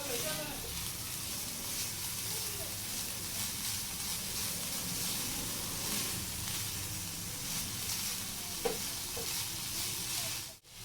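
Chicken with capsicum being stirred and fried in a pan, a steady sizzle with continuous scraping and stirring running throughout, fairly close.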